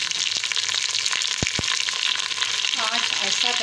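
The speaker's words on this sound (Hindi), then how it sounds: "आँच को आहिस्ता करके गोश्त को डाल" Frozen mutton goes into a pot with garlic over low heat, crackling in an even, close frying hiss, with two quick knocks of a spoon against the pot.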